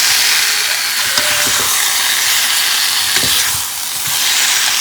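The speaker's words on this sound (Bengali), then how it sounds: "আলুর সঙ্গে মশলাটা কষিয়ে নেব।" Potatoes fried with spice paste in a pan give a loud, steady sizzle and hiss that runs throughout, with brief stirring scrapes heard near the start.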